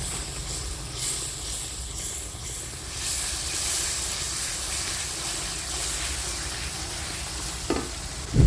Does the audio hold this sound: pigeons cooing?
no